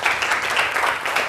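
A classroom of students claps together in a short, loud burst of rapid hand-clapping lasting just over a second.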